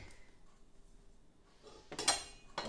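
A metal spatula scrapes and knocks against a Pullman tin while working bread dough, a few brief sharp clinks near the end after a quiet stretch.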